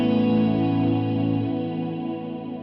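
An electric guitar played through a Black Hole reverb pedal on a dramatic mood setting rings out as a sustained chord, shimmering and fading slowly into a long washed tail, with no voices.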